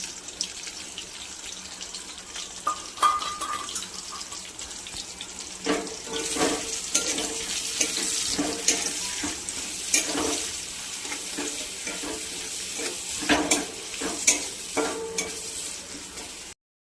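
Chopped onion and chili fry in a little oil in a wok, giving a soft steady sizzle broken by scraping stirs and clattering utensil hits that grow busier in the second half.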